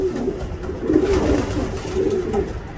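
Pigeons cooing at close range, including a silver mealy among newly acquired birds in a loft, a steady run of soft overlapping coos with no talking.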